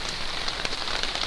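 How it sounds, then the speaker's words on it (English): Heavy rain patters steadily on surfaces in the Norwegian wilderness, a dense, even hiss of countless close drops with small scattered taps and no voices. "terrible rain I'm having at the moment, I'm soaked through."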